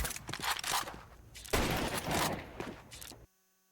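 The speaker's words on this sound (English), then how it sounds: "I'm going to whip out my pistol." Pistol shots in the shooter game Counter-Strike 2, a rapid cluster of close, loud cracks in two bursts amid game noise, ending abruptly in silence.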